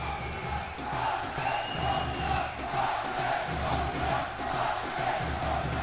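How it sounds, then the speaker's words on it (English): A packed arena crowd roars and cheers steadily through a tight Eurobasket 2021 qualifier basketball game between Switzerland and Macedonia, the loud, dense noise sustained without a break. "Great crowd once again."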